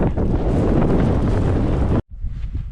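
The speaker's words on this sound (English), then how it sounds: "the wind is freaking horrible" Strong wind buffets the microphone on a glacier climb, a loud continuous roar that cuts out abruptly near the end and then returns more weakly.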